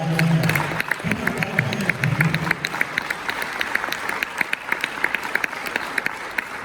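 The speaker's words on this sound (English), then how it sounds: "Clap your hands again." A church audience claps along in steady rhythmic beats at a motivational sermon, the clapping loud and continuous, starting under a brief stretch of voice and crowd noise.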